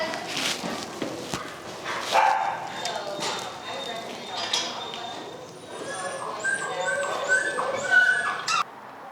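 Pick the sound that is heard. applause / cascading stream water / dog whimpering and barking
dog whimpering and barking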